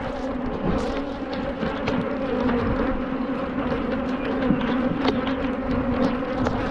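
Angry honey bees swarm around a hive in a dense, continuous buzzing drone, loud and close, with individual insects whizzing past and no voices.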